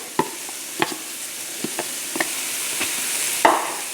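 Onions, whole garlic and thyme sizzling gently in a pan over moderate heat, with a soft continuous fry broken by scattered sharp clicks and scrapes of stirring; no talking.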